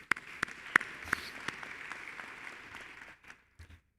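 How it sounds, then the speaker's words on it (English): A graduation audience at a university fall commencement applauds, a roomy wash of clapping with sharp individual claps that fades out after about three seconds, leaving a few last scattered claps. "Give yourself a round of applause."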